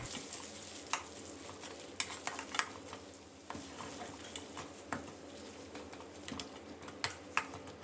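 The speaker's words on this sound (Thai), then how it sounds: "นำพริกหอมกระเทียมที่เราตำไว้นะครับ มาใส่ลงไปผัดให้แตกกลิ่นหอมเลยครับ" Pounded chili, shallots and garlic stir-fried in a pan over medium heat: a soft sizzle under repeated quick scraping and tapping of a utensil against the pan.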